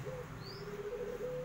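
Anggungan doves calling at a bird farm in Mojokerto during morning sunning, with a steady low cooing tone repeating beneath faint chirps and background hum.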